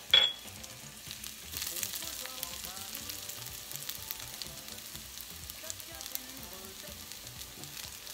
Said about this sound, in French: Je vais faire suer mes oignons